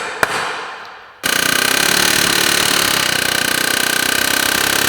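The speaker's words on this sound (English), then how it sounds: "Now we can hammer it properly." A sharp metallic tap, a brief quiet, then rapid, continuous mechanical hammering on a part from a Volkswagen Touareg transfer case, rattling on loudly and steadily to the end.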